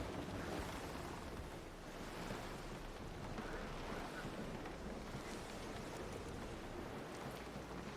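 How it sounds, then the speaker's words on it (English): Strong wind and rolling waves sound continuously around a sailing ship at sea in a video game, a loud, dense roar of surf and gusting air with no pauses. "There's a strong wind now."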